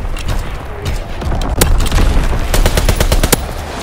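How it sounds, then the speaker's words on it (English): Loud machine-gun fire in the video game Call of Duty: WWII on the Shipment 1944 map, dense rapid bursts with sharp single cracks over booming battle noise. "Firing on target."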